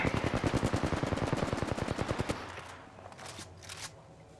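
A rapid burst of automatic gunfire in Apex Legends, a battle royale shooter, rattles out loud and close for about two seconds, followed by a few scattered softer shots and clatter.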